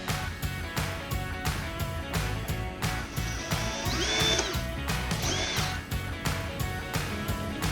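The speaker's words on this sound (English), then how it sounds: "when I go in reverse direction from normal, it's going to pull itself in and try and spin out that broken bolt" A power drill runs in reverse to back out a snapped bolt, whining steadily with rapid rhythmic chatter and a brief pitch rise midway, close and continuous throughout.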